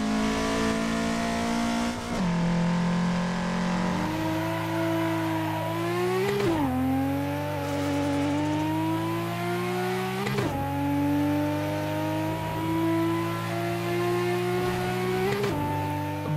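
A turbocharged race car engine in Assetto Corsa, driven on the Mugello circuit, drones loudly and continuously, its pitch climbing steadily through each gear before dropping sharply at several upshifts, with no voices over it.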